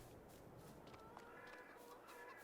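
Chickens in the video game Farming Simulator 22 cluck softly and repeatedly over a constant low background hum, a busy coop sound with no voices.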